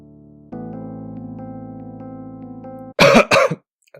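Two sharp, loud coughs in quick succession, close by, right after a steady droning tone stops.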